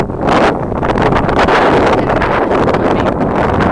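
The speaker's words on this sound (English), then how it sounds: "it's really windy" Strong, steady wind buffets the microphone with a loud, continuous rumbling roar and gusty rustle throughout, with no voices.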